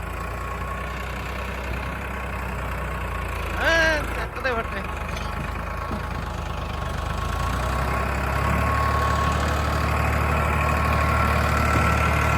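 A Farmtrac 60 tractor engine runs with a steady low rumble that grows fuller and louder toward the end, while someone speaks briefly over it partway through.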